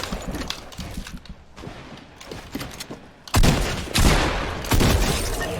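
Fortnite gunfire with quick shots in rapid clusters, then a few louder, heavier blasts near the end, close and punchy amid game sounds.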